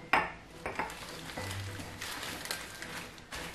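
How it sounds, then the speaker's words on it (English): Wax paper rubbing grease around the cups of a metal muffin pan, giving faint scraping and light clattering of the tin with a few small clinks, steady and close over roughly four seconds. "I like to use the wax paper to cover my fingers to grease the pans, and I am greasing it very, very carefully"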